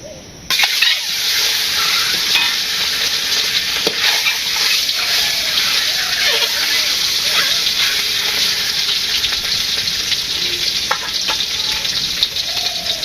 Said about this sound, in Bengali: ডিম ভেজে নেই